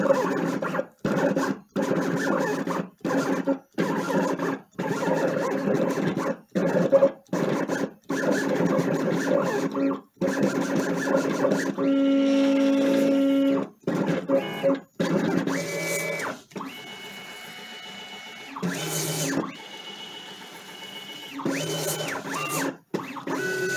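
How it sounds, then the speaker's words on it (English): Vinyl cutting plotter cutting weed lines, a series of short buzzing, scratchy motor strokes broken by brief pauses, with higher whining carriage moves later on, fairly close and steady. "here's my machine cutting through"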